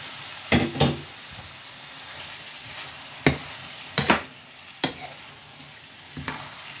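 Chicken pieces stirred and mixed into softened fried onions in a pan, with several separate scraping, clattering strokes against a low sizzle.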